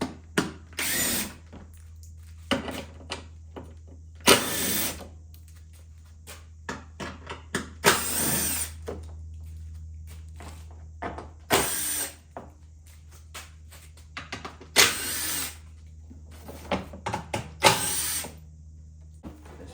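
A power tool spins out six 10mm bolts on a 2022 Genesis G70 with the 3.3T engine, in six short, loud bursts a few seconds apart, with small clicks and handling noises between them.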